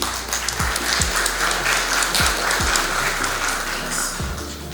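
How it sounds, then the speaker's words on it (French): Steady applause from an audience at the official launch event of a popular private business sector, with a continuous wash of clapping and occasional low thumps beneath it, lasting several seconds without speech. "je vous demande d'applaudir s'il vous plaît"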